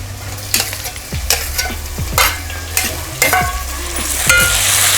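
Tomatoes tossed into chillies frying in oil for a restaurant-style chicken biryani: steady close sizzling with repeated scraping spoon strokes roughly every second, with no talk.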